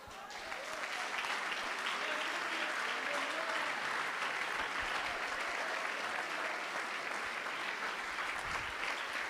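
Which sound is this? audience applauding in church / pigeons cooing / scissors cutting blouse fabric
audience applauding in church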